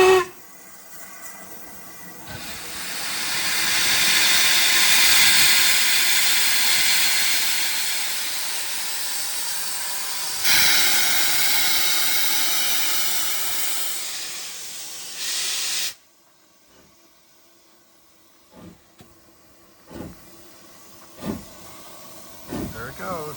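A steam train pulls away from the small station at Pitlochry after the whistle, a loud, broad hissing rush of steam that swells for about fifteen seconds, then cuts off abruptly, leaving faint clicks and distant sounds.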